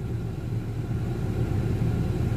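A car engine rumbles low and steady nearby, a soft idling drone with no other sounds over it.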